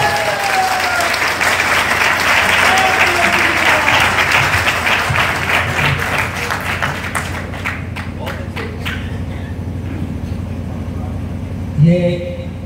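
Audience applause fills a Hindi poetry gathering, loud and dense for about seven seconds, then thinning into scattered individual claps; a voice speaks briefly near the end.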